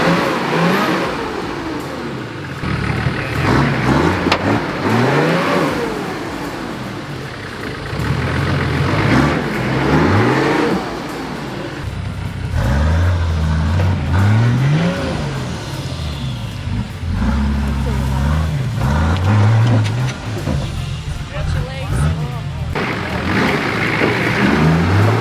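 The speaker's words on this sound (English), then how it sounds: "Listen to the turbo on this thing." Turbocharged 4WD offroad at a bush 4WD park, its engine revving repeatedly in rising and falling surges with turbo whine, loud and close, with scattered voices in the background.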